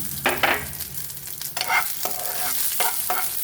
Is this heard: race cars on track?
no